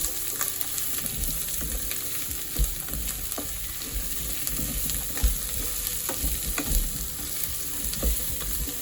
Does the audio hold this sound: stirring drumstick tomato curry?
yes